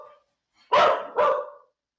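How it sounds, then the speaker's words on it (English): A dog gives two loud, close barks in quick succession, each short and sharp, after a faint brief sound and with silence around them. "As the dog starts barking"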